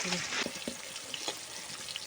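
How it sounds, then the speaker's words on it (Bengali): Steady, close sizzling and crackling of fish frying in hot oil in a pan, with a few soft clinks and scrapes, no talking. "মাছটা দেখো কি সুন্দর ভাজা হয়েছে"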